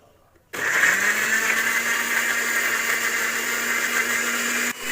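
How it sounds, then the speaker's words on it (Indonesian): Electric blender whirring as it blends fresh tomatoes and water into juice, starting abruptly after a quiet moment and running at a steady high-pitched whine before cutting off near the end. "Nah, setelah itu matikan blender."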